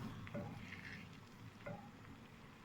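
Besan halwa cooking in ghee in a pan, a faint steady sizzle with soft stirring scrapes and a couple of light utensil taps, close but quiet.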